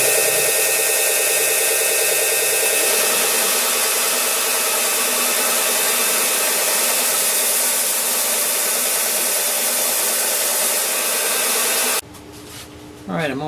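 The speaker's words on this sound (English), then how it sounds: "I'm going to sand down the edges by putting it on my sander here" Wooden puzzle board edges being smoothed on a power sander, a loud continuous motor whine with rough grinding for about twelve seconds before cutting off abruptly.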